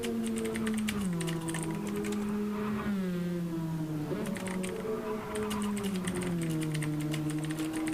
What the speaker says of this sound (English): My clickety-clackety keyboard.